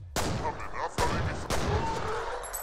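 Pistol shots ring out in the first-person shooter F.E.A.R., three loud sharp reports with echoing tails spaced roughly half a second apart, over faint game ambience.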